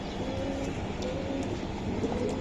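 Pigeons coo softly and repeatedly at a busy pigeon market where the birds are sold, their calls blending into a steady background bustle of moderate loudness.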